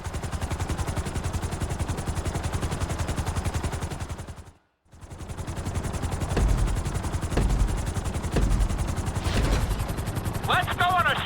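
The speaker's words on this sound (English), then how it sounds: "we're gonna put you in a helicopter for this lesson" A helicopter in GTA 5 flies during a flight-school lesson, its rotor chopping in a fast, loud, continuous beat that cuts out for a moment and then resumes, with a voice briefly heard near the end.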